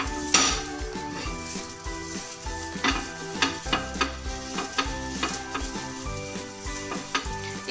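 A piece of onion rubbed around a nonstick tawa to spread a spoonful of oil before making rava dosa, with soft sizzling, scraping and repeated metallic clinks and taps in an uneven rhythm.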